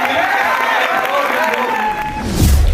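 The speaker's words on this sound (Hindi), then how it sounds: "ताली बजाओ" Students at a Hindi poetry gathering in an engineering college clap and cheer as a voice talks over the crowd, the clapping and shouts swelling louder near the end.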